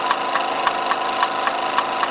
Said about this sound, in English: Have a closer look at this engine when it's running.